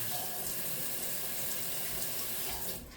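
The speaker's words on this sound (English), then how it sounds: "I'm going to add of water." Tap water runs steadily into a can to rinse out leftover bits from the bottom while cooking ribs in vinegar, a close, continuous splashing rush that cuts off abruptly near the end.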